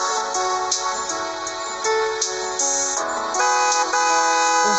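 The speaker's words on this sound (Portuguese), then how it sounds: "O som de uma buzina colocou de volta a realidade." A car horn in a video game honks repeatedly in sustained blaring tones, loud and close, with pitch shifts between blasts and no talking.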